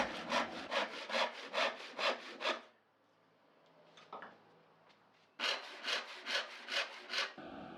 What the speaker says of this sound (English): sawing out the front pieces of each of the drawers